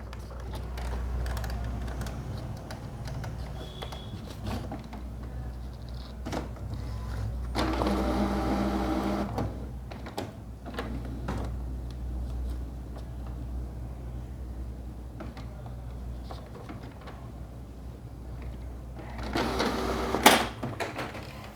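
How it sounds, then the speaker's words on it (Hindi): An HP Ink Tank Wireless 419 printer showing an E9 error runs a print job, with faint mechanical clicks and whirring and a couple of louder bursts of feed noise, all fairly quiet. "यहाँ पे प्रिंट आउट हो रहा है"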